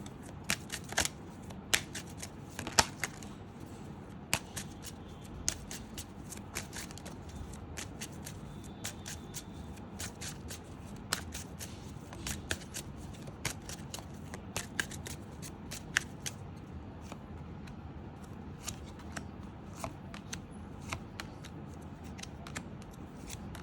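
A Lenormand card deck being shuffled by hand, a long run of close, crisp riffling flicks and taps in an irregular rhythm, with no talking.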